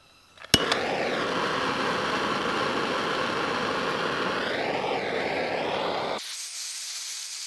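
A heat gun shrinking heat-shrink tubing over wire splices, switching on with a click into a loud, steady blowing roar that wavers in pitch, then cutting off abruptly near the end.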